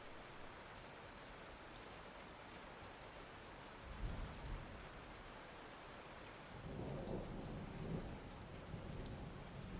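Light rain falling steadily, a soft even hiss of raindrops on surfaces, with a couple of low distant rumbling swells in the background.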